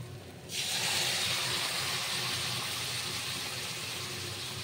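Sudden loud hiss and sizzle as water is poured into a hot pan of cooking green chillies, bursting in abruptly after a quiet moment, then settling into a steady, slowly fading steam sputter.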